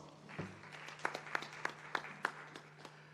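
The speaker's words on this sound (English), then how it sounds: "let's give him a round of applause" A small conference audience at a regional disaster-risk-reduction meeting for the Americas and the Caribbean gives a faint, sparse round of applause: about ten distinct claps at an even pace, heard over a low electrical hum.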